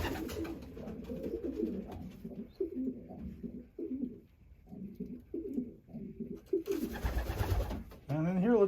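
Pigeons coo in a loft with a young red hen and a cock among them, producing soft, repeated throaty burbles close by. The cooing continues nearly throughout, with a louder rustle or flutter near the end.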